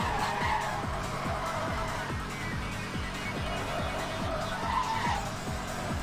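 A racing video game with a car crashing: repeated skidding and tire squeal over steady engine noise, with several sharp impacts, loud and continuous, no talk.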